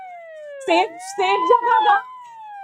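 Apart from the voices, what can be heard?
siren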